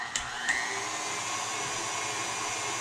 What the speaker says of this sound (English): So I'm going to turn my grinder on and show you just how easy it is to grind up this meat